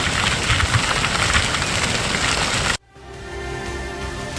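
Heavy monsoon rain pours steadily in the Nandanagar Ghat area of Chamoli, India, a dense, loud hiss that cuts off abruptly and gives way to a quieter rainy background.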